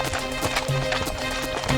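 Hooves clip-clop in a quick, steady rhythm as a rich man rides a handsome black horse into a village, loud and close, with faint tonal background sounds beneath.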